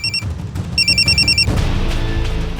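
A telephone bell rings in loud repeated electronic bursts, two short trills then a longer run, over a low background of music or room noise in a televised Hindi family drama.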